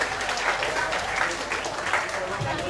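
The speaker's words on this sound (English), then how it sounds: "Clap if you listen to me." A poetry slam audience claps together, a dense sustained wash of applause filling the room, with voices talking over it.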